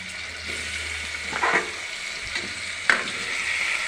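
Potato and tomato curry vegetables fry in a pan with a low, even sizzle, close by, with occasional stirring scrapes and clinks rising above it.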